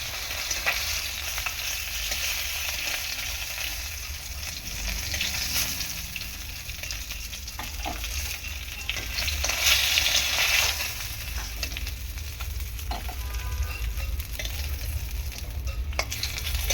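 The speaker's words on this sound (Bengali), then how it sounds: "বাদ বাকি মাছগুলো ছিল, এগুলো ভালো করে আমি ভেজে দিচ্ছি" Pieces of fish fry in hot oil, a sustained close sizzle with intermittent spatter pops and scraping stirs that swell and ease over several seconds.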